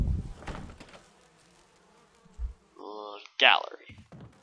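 Bees buzzing in the Resident Evil video game, a short insect drone rising in the second half, heard with someone talking over it.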